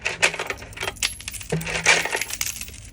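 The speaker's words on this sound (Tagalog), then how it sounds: "mga barya yan mga idol, mga barya" Coins dropping into a pile from a savings stash, with repeated bright metallic clinks and jingles scattered across the clip, close and fairly loud with no talking.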